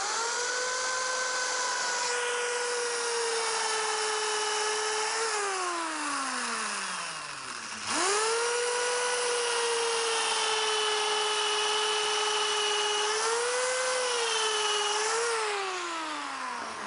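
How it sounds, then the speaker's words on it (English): Power drill boring a pilot hole in wood for a mirror frame: a loud, close, continuous motor whine that winds down in pitch, stops briefly, then spins back up and holds steady. "we'll put a pilot hole in it first"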